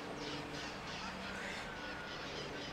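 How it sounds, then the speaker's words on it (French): Many birds call at once, a constant dense chorus with crow-like caws rising over steady background noise, at moderate loudness throughout. "Il y a 1 milliard d'oiseaux."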